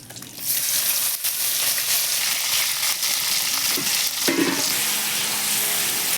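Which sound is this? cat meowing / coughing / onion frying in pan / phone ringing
onion frying in pan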